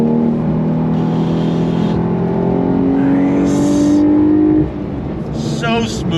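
A Porsche 911 Carrera T accelerating hard on throttle, its engine note climbing steadily and loud from inside the cabin before easing off near the end as a voice speaks.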